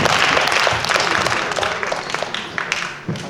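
An audience at a student research presentation event applauds with dense, continuous clapping that gradually thins out toward the end, with a few louder claps near the close.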